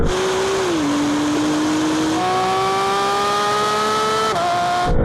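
A Porsche GT3 RS and a Maserati MC20 race, one turbocharged engine droning loud and close, its pitch climbing through long pulls with a shift partway through before cutting off abruptly.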